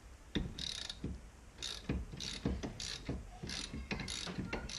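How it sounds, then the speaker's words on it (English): Bursts of quick ratchet clicking from a wrench loosening a nut near a car's rear wheel, several short metallic runs with pauses, close and fairly quiet. "Always make sure you have your ratchet set to be loosening the nut rather than tightening the nut."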